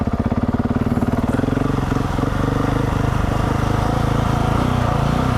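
Close, loud engine of a GASGAS 700 motorcycle as it is ridden. It pulses rapidly at first and then smooths into a steady, buzzing drone.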